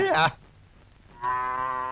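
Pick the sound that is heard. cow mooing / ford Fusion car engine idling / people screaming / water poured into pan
cow mooing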